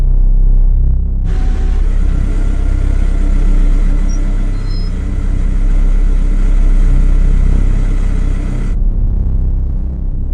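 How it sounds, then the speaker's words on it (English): Several LMP2, LMP3 and GTE race cars head out onto the hot asphalt at Paul Ricard, a steady loud engine rumble that holds for several seconds without talk. "LMP2s, LMP3s and GTE cars heading out onto what is very warm Paul Ricard asphalt"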